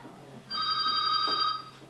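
A telephone bell rings once in a single sustained, bright trill lasting just over a second, close and clear against a quiet room.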